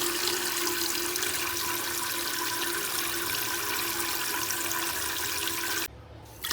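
Tap water runs steadily into a cooking pan in a home kitchen, a continuous broadband rush that holds even for about six seconds before cutting off abruptly near the end.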